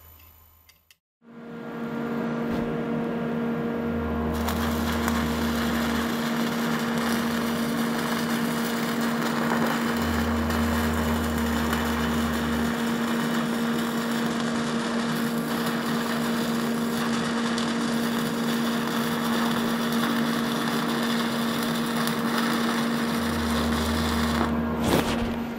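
Shopmade welding rotator turning at about 4 RPM, giving a steady, continuous motor hum with a sustained tone and a faint periodic lower rumble that comes and goes, close and unbroken throughout.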